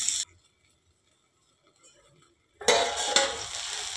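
A lid clanks down onto a pan of okra (bhindi) frying over a medium flame, a short metallic knock that follows a near-silent pause, with the sizzle of frying continuing underneath.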